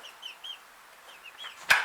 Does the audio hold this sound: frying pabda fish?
no